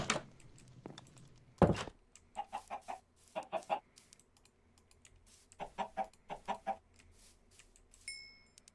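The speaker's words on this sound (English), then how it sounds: "get some more chickens while I'm at it." Chickens cluck in the video game Minecraft in several short, clustered bursts at moderate volume, mixed with intermittent computer keyboard tapping and no talking.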